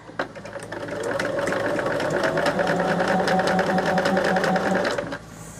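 A sewing machine stitches a quilt sampler piece, its motor whirring close and loud in a steady rapid run after a brief start, then stopping abruptly near the end.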